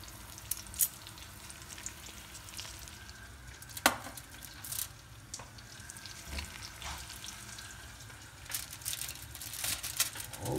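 Pieces of lamb frying and sizzling in a pan for machboos, a close, steady crackle with occasional sharp stirring clinks and scrapes.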